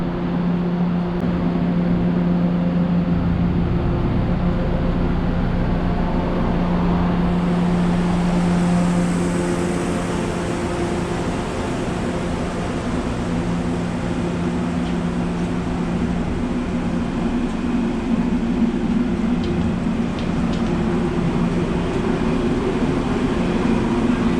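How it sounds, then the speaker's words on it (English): A steady low rumble and rattle of a moving heritage railroad carriage in Chattanooga, Tennessee, continuous throughout with a constant drone and no voices. "It's time to take the train ride back."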